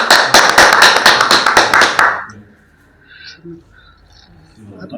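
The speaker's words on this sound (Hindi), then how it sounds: "चलो ताली" A group claps at a birthday celebration during a World Youth Skills Day event at a skill center: about a dozen quick, loud, rhythmic claps over two seconds, then a hush with faint voices.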